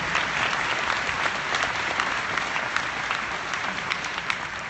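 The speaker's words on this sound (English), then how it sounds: "how about a round of applause for his character Spock as well?" An audience at a Star Trek fan convention in Las Vegas bursts into sustained applause for the character Spock, a dense roar of clapping hands from a large crowd that holds steady throughout.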